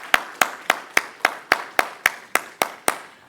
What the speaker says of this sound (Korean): 큰 박수로 우리 감사의 마음을 전하기 원합니다.